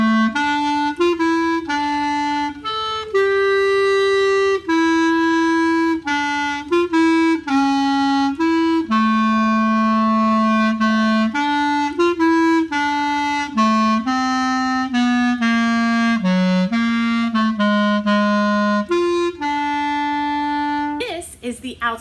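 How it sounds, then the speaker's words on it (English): A clarinet plays a melodic line of sustained and moving notes, clear and close, steady and alone for about twenty seconds, with no talking. "here's an example of what the clarinet sounds like"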